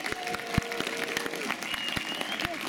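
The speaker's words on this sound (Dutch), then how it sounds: "Ook natuurlijk even een applaus voor die prachtige jonge meiden die steeds opkomen schaatsen voor de medailles" A crowd applauds young skaters at a junior speed-skating medal ceremony, a modest patter of clapping hands with scattered sharper claps, under faint background voices.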